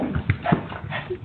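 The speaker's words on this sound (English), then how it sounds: "Did they get chased away by a little dog?" A little dog yips in short quick bursts, a few sharp high barks and whimpers across a second, close and somewhat tinny as if from a played recording.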